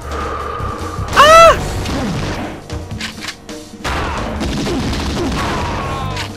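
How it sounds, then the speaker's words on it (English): Grenade blast in the shooter game XIII: a sharp, loud explosive boom with a crashing burst, followed by continued rumbling combat noise and scattered impacts. "Here, have a grenade."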